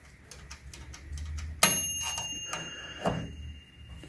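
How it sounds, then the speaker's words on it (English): The mechanical timer on a Our Place Wonder toaster oven and air fryer ticks in a steady rhythm, close and fairly quiet, with a sharp metallic ring partway through as the dial is turned. "Why is it ticking like this?"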